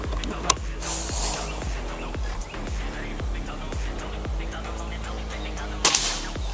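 Sharp, loud air rifle shots ring out twice, once early and once near the end, over continuous background noise during a five-shot target-shooting test of a new air rifle.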